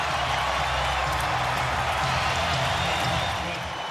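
Home crowd roaring at a Miami Heat basketball game against the Nets, a loud dense wash of cheering and applause filling the arena, steady throughout, with speech over it.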